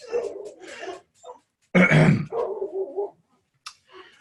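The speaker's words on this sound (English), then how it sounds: "Sorry about the dogs." Territorial dogs nearby let out several short, loud barks and gruff grunts in broken bursts, with brief silences between them.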